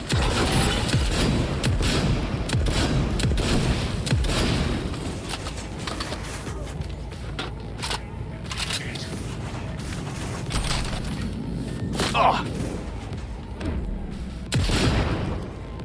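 Heavy gunfire and explosive booms from a Cyberpunk 2077 firefight roll on almost without a break, loud and close, with some sharp cracks standing out and a few voices mixed in.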